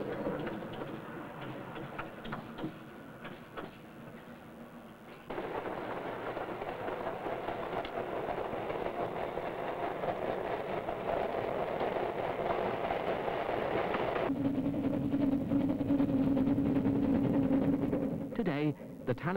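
Continuous rumble of a narrow-gauge heritage train on the single-track Talyllyn Railway in Wales, with rhythmic clicking of wheels over joints growing louder partway through, steady and fairly close.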